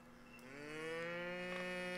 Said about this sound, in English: hear the cow